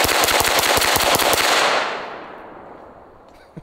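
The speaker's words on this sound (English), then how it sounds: "That might be the fastest I've ever shot a 9mm pistol." A Staccato 9mm pistol fires a rapid mag dump at a rubber dummy on a range, a fast dense string of loud close shots that stops abruptly and leaves a decaying echo and quiet room tone.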